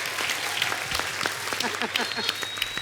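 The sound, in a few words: audience applause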